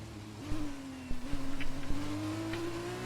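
An F2 race car engine droning steadily on a wet track in a racing video game, with a rising whine and brief gear-change dips and throttle blips, close and continuous.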